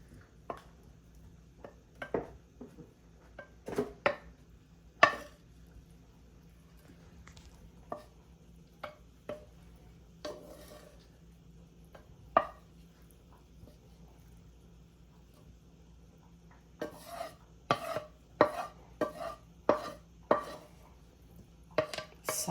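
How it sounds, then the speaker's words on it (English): Biscuits, sausage and onions being added to a pan while making a quick breakfast: a series of sharp clinks and thuds of food and utensils against the pan, scattered over 22 seconds with a dense burst near the end, over faint background hum. "we're gonna go ahead and add all of our biscuits to this pan, adding the sausage and the onions"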